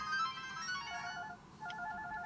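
A telephone ringtone chirps in a repeating electronic pattern, faint and somewhat distant, amid low background noise in a Haitian comedy film scene.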